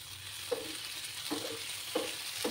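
Chopped tomato goes into a hot frying pan with onions for egg do-peyaja, and steady sizzling and frying carry on while the ingredients are stirred in four short scraping strokes.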